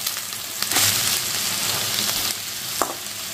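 Onions and bay leaves frying in hot oil in a pan for mutton curry: a steady, close sizzle with crackling bursts and a few brief scraping stirs, no talking.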